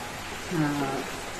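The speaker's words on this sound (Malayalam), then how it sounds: "ഇവിടെ നല്ല മഴയാണ്" Heavy rain falls steadily in a dense, even hiss throughout, with a brief tonal sound rising over it around the middle.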